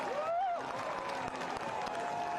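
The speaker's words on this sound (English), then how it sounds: "sending the crowd into absolute raptures" A stadium crowd at a Forward Madison FC versus Richmond Kickers football match roars and applauds after a late goal, producing a dense, sustained wash of cheering and clapping that rises briefly at the start.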